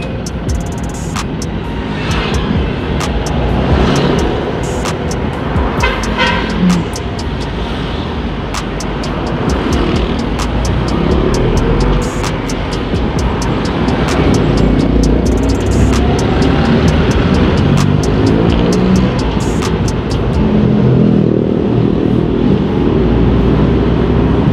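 A vehicle rumbles past on a road near a bridge, a steady low engine and road roar filling the whole stretch at close range with no voices.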